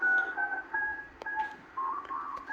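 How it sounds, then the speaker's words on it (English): CB radio base station chatter plays in the background, with steady tonal whistles and brief bursts, at a moderate level with no nearby talk. "As you can hear in the background, people are having fun on their CBs out there. That's the base station you hear."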